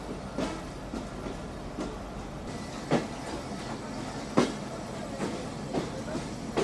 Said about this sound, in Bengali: আর আমাদের ট্রেন এখন প্রবেশ করতেছে নোয়াপাড়া রেলওয়ে স্টেশনে।